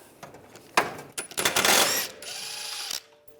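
A ratchet with an E14 socket loosens a bolt on a 2006-2009 Mercedes-Benz E350 rear lower control arm, giving a loud burst of rapid clicking pawl ticks and metallic clatter close by.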